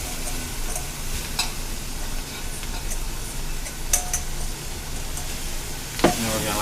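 Peppers, celery and onions cooking in a milk chocolate flour-and-oil roux for crawfish gumbo, a steady broadband sizzle with occasional stirring clicks and a scrape near the end, close by, with no talk.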